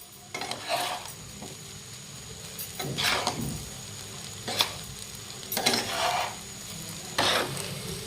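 Egg tawa pulao rice is stirred in a pan over a low gas flame, a soft sizzle running beneath repeated scraping strokes of a spoon against the pan, close and steady with no voices.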